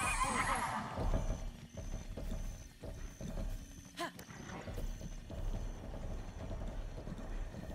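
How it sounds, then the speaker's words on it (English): Horse whinnying in Zelda: Breath of the Wild, the Lord of the Mountain mount, a loud neigh up front followed by faint hoof clip-clop and game ambience. "For I am riding the Lord of the Mountain"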